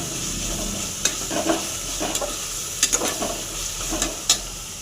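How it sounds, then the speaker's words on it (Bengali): Whole spices such as coriander seeds and cumin sizzle in hot oil in a pan, a steady close frying hiss punctuated by scraping stirs of a spoon against the pan. "এই মশলাটা ভাজা ভাজা হয়ে এসছে।"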